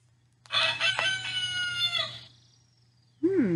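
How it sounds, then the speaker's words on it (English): A rooster crowing once, a clear, fairly close cock-a-doodle-doo lasting about two seconds, followed by a brief separate squawk at the end, with no talk. "That's the sound a rooster makes."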